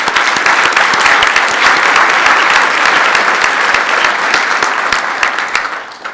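A large audience applauds a panel at an IETF technical plenary, a dense, steady wash of many hands clapping close and loud for about six seconds, tapering slightly at the end with no talk over it.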